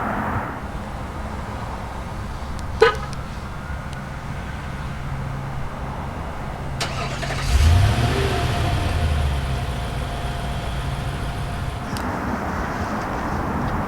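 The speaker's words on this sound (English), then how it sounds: "However, we do still have standard remote start." A 2020 Infiniti QX80 Edition 30 sounds a single short chirp on remote start, then its engine turns over a few seconds later and settles into a low, steady idle, heard from outside at moderate distance.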